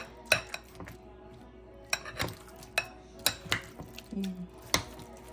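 A spoon clinks and scrapes against a bowl while chicken sandwich filling is mixed, in an irregular series of sharp metallic taps spread over several seconds, close by with faint background hum.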